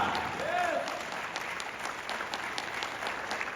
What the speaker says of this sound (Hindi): हमारे अपलाइन के लिए कैसी ताली बजा दी